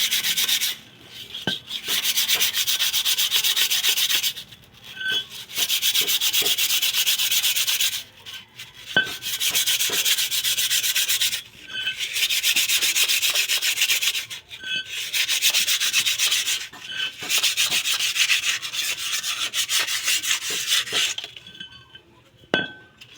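Rust being scrubbed off the belt pulley of a Suzuki van: long bursts of harsh, close abrasive rubbing, broken by short pauses and occasional metallic clinks, with no talking.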